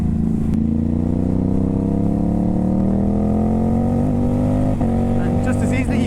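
A Ducati Hypermotard 950 SP with a tuned exhaust and ECU pulls hard through the gears, its engine note climbing steadily in a loud, continuous rising drone with faint chatter near the end.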